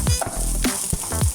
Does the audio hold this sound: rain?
no